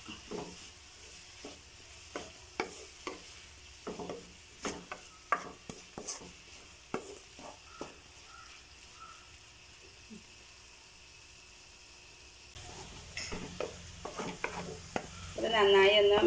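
Salted biryani masala for Manjali biryani being mixed in a pan, with a low continuous sizzle broken by repeated spoon taps and scrapes that grow louder and busier toward the end.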